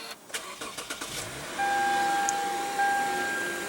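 A 2008 Lexus GS350 with a 3.5-liter V6 starts by push button: a brief starter crank and catch, then a steady, smooth idle hum settling in close by, with a few clicks before the engine fires.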